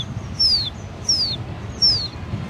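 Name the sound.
boy imitating a chick chirping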